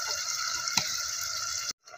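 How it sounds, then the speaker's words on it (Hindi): Spice-rinse water poured into frying masala for a tilapia fish curry gives a steady hissing, sizzling pour that cuts off abruptly near the end, close and alone. "ये मसाले का पानी पूरा मैंने धो के वो भी मैं साथ में डाल रही हूँ"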